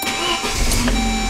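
Saab 9-3 2.0i car engine starting while in neutral, a brief crank catching into a steady mid-pitched running hum, close and alone.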